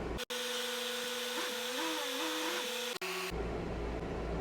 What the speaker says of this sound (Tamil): ஏசி சுவிட்சை போட்டாச்சு ஃபுல் கூலில் வச்சுட்டேன்